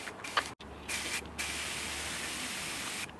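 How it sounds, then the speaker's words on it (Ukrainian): An upturned spray paint can blows air through its nozzle in a steady, close hiss lasting a few seconds, broken by a brief gap near the start. "Перевернувся, фарба опустилася і просто повітрям продув оцей розпилювач, щоб воно там не засохло."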